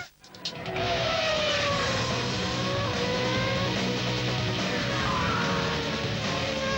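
A Formula 1 race car engine roars at high revs in a 2007 Mobil 1 TV advert, loud and sustained for several seconds with shifting pitch, no voices over it.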